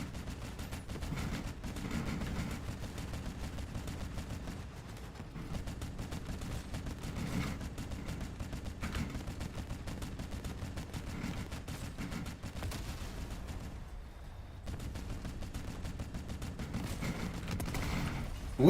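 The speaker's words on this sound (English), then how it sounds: "I was shooting at that guy for 2 minutes." Rapid, sustained automatic gunfire from a weak weapon in a video game, a dense unbroken stream of shots running loud and close the whole time with only a brief dip near the end and no talking.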